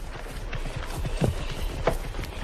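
Plough horses, including a stallion, clip-clop with a few distinct hoof thuds spaced unevenly over a low, muffled background, with no talking.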